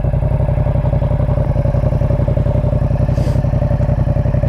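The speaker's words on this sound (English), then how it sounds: "give it a bit of a walk away test, see what kind of noise we're getting." A Yamaha MT-07 with an SC Project Conic exhaust idles loud and close, its parallel-twin engine thumping in a fast, even, lumpy rhythm that stays steady throughout.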